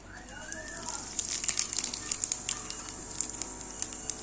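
White cumin seeds dropped into hot oil in a pan for a katla fish curry, giving a quiet, steady sizzle scattered with sharp crackles and pops throughout.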